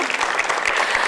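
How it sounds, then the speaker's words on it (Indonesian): A studio audience applauds at a live promotional show, a loud dense burst of clapping close up, brief and unbroken. "Tepuk tangan lagi dong"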